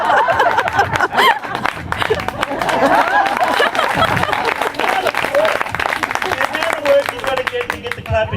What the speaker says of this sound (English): You get the clapping you feel you deserve.